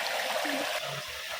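Steady rushing of water from the second waterfall at San Rafael, Montalban, Rizal, a constant broadband wash with faint murmurs briefly underneath.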